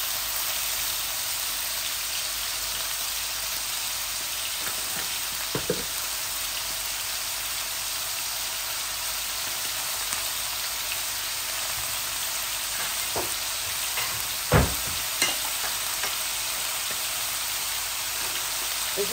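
Pui shak greens fry in a pan with a steady close sizzle over about twenty seconds, broken by occasional clanks and knocks of stirring.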